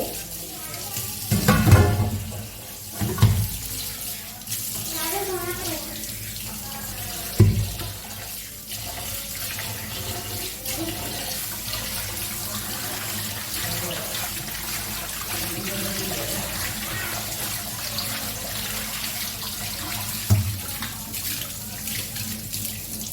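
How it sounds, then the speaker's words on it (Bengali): Goat meat is washed under a running kitchen tap: a steady stream hisses into the sink, with louder splashes and clatters as the pieces are handled up close, and a voice speaks now and then. "মাংসটা কলের তলা ছেলে ভালো করে ধুয়ে দেবো"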